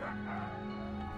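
Sled huskies on a husky farm bark and yip excitedly in a dense, continuous chorus, close and fairly loud, with no talking.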